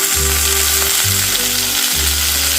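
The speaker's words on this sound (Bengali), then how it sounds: "আলুটা দিয়ে একবার ফ্রাই করে নিতে হবে একটু" Potato pieces fry in a pan with a loud, dense, steady sizzle close by, while a low droning hum in the background starts and stops in segments.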